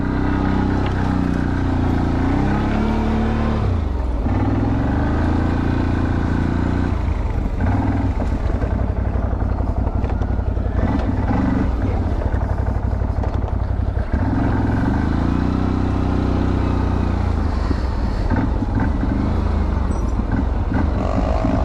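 A CF Moto motorcycle engine braking on a descent, its engine note droning loud and close, with the pitch sliding and wavering as revs drop and rise again, under a constant rumble.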